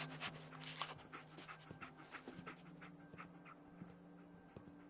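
Dogmeat, the dog companion in Fallout 4, pants steadily in quick repeated breaths, close and fairly loud, with faint steady game background tones beneath.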